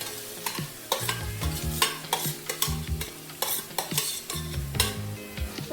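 Paneer is tipped into a hot pan and stirred with a metal spoon at a Surat street-food stall, rhythmic scraping clatters of utensil on pan over a constant frying sizzle.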